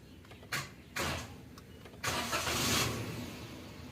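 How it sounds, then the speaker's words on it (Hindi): A 2022 Suzuki Alto being cranked by its starter, with short bursts of churning starter noise followed by a longer cranking stretch, close and fairly quiet, without clear catching of the engine. "गाड़ी को भी मैं सेल्फ लगा रहा हूँ।"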